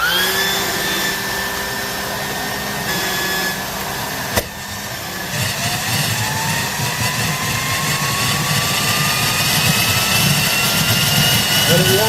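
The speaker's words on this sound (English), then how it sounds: "I can hear the turbine spinning good" A home-built turbojet engine runs with a loud, steady roar and a rising whine as its turbine spools up, plus one sharp pop partway through.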